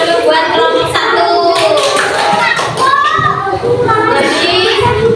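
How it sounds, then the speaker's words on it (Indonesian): A class of fourth-grade children claps for a group, a loud close burst of hand clapping mixed with children's voices. "Tepuk tangan dulu buat kelompok 1"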